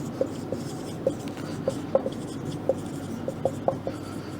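Chalk or marker taps and scratches on a classroom board during a hydrology lecture, a steady run of short, evenly spaced ticks heard fairly close and quiet, with no talking over them.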